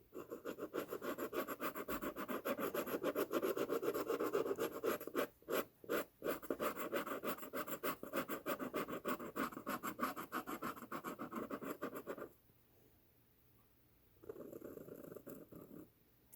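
A Murano glass dip pen scratches across paper while writing with Victoria's Merlot ink, a steady close, dry rasping texture with short breaks as the nib lifts, then a pause before the scratching resumes.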